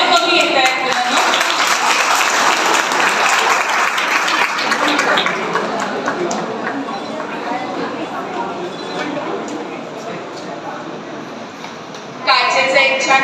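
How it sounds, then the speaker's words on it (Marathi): Applause from an audience for children at a prize ceremony, a dense, loud clatter of clapping that slowly thins out over several seconds before a short fresh burst near the end, with an announcer's voice talking over it. "टाळ्या कमी येत आहेत मुलांना."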